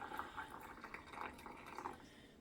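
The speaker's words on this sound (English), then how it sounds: "And then we're going to fill with water to 1-inch headspace." Water trickles and splashes faintly into jars of garbanzo beans being filled for pressure canning, with soft intermittent pouring bursts and small clinks close by, no talking.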